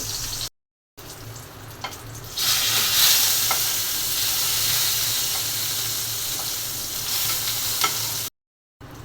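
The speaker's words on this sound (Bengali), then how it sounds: "বেগুনের সাথে কয়েকটা শুকনো মরিচও ভেজে নিই।" Eggplant slices and dried chilies fry in hot oil with a loud, steady sizzle close up, swelling as stirring scrapes through the pan, with a few small pops.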